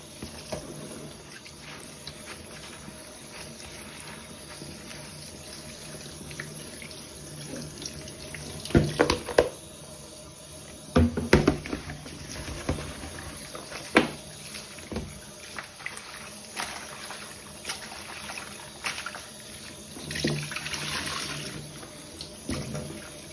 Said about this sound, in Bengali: রান্নার শাকগুলো ধুয়ে নিব